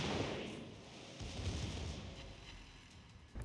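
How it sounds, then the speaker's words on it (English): Naval gun salvos in the World of Warships Legends game, with a Worcester and a Montana firing from a flank: a heavy booming blast at the start, then rumbling low roar and distant rolling bursts, another thump near the end. "you can see the salvos coming over from the Wooster and that other Montana on that flank"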